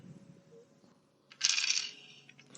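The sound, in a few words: dice dropped and rolling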